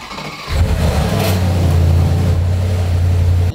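A Bentley Bentayga engine cranks and fires up, then settles into a loud, deep, steady idle close by with a faint rise in revs, no talk over it.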